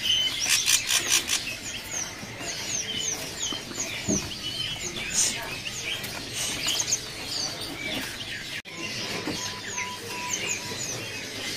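An ashy drongo sings in rapid, bright chirping phrases at a bird kiosk, loud and steady, amid other birds' tweets and shop noise.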